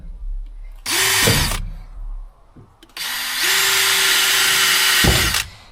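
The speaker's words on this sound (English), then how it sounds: "let me go get my drill bits. I like to start with pilot holes here" Two bursts of a power drill whirring at high speed, a short one then a longer steady run, with quiet pauses and small clicks between.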